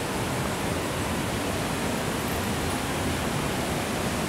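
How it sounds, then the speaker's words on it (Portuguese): Cachoeira da Chave waterfall in Votorantim, a constant broadband roar of falling water, steady and loud with no pauses. "Olha lá, outra cachoeira, gente, ó."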